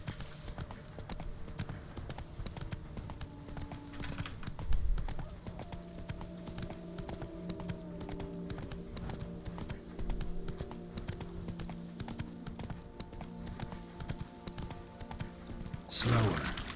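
Steady hoofbeats of a horse in the video game The Witcher 3 clip-clop in a quick rhythm beneath a continuous musical drone, with a short louder burst near the end.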